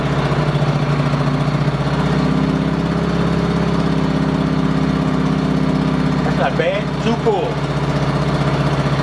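A WEN 56200i inverter generator runs at a steady, even hum close by, with a brief voice speaking over it near the end.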